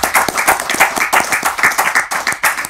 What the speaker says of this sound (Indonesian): Tepuk tangan buat Nardi.